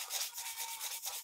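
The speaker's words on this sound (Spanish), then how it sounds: "Vamos a cortar esto lijando." Sandpaper rubbed against thin decoupage paper to cut it, a close, soft rasping in quick back-and-forth strokes with a steady rhythm.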